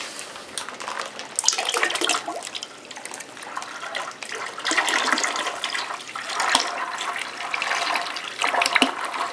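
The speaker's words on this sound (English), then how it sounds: "Then we add the wine juice." Concentrated wine juice is poured into a vessel of water while making wine, giving a continuous splashing, gurgling pour that swells and eases over several seconds, with no voices.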